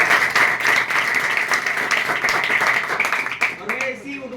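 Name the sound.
audience applause for the brother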